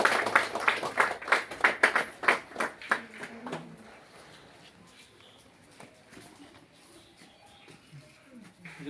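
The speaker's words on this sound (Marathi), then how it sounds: "टाळ्या वाजवा मुलांनो." Schoolchildren at a village school clap in a burst of quick, loud, uneven hand claps lasting about four seconds, then fading into quiet room murmur with a few faint scattered sounds.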